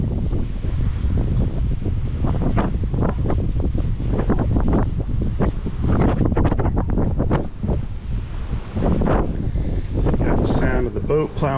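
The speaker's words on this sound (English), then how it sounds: "Got the sound of the boat plowing through the waves" Carnival Panorama cruise ship plowing through ocean waves: continuous loud rushing water and wind buffeting the microphone on an open deck, with splashes surging throughout.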